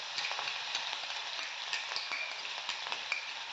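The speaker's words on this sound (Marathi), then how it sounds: "मिरची आणि लसूणचं मी यामध्ये वाटण टाकते" Chili-garlic paste fries in hot oil with peanuts for a Khandesh-style vangyache bharit, a bright, busy crackling sizzle with small popping spits throughout, close and steady with no talk.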